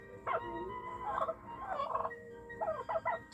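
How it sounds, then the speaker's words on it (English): Several turkeys gobble in quick, warbling bursts, fairly close and clear, with no talking over them. "these birds belong in her arms, not on a platter. 6 turkeys, safe,"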